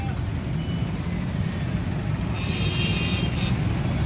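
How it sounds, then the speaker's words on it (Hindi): Dense road traffic around eight in the evening, a steady low rumble of cars and trucks with a brief high reversing-style beep partway through, continuous and fairly loud with no talk. "बहुत ज़्यादा ट्रैफिक है भाई"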